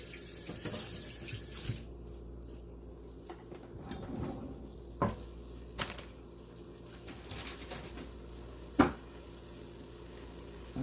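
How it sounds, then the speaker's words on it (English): A sink tap runs steadily in a home kitchen while hands are rewashed between handling a pot roast, a continuous hiss of water broken by a few sharp knocks and clatters, with no talking. "I'm going to rewash my hands again."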